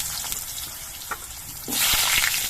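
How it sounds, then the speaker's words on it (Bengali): Potatoes drop into hot oil in which whole cumin has been fried, and a broad, loud sizzle bursts up and stays strong, following a quieter crackle. "জিরেটা ভাজা হয়ে যাওয়ার পর এর মধ্যে আলুগুলো দিয়ে দিচ্ছি"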